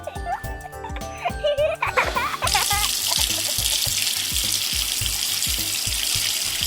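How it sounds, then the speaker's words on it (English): Water runs from a tap into a sink in a steady close splash for hands being washed under it, after some earlier clinking and light trickling. "After a walk, you definitely have to wash your hands."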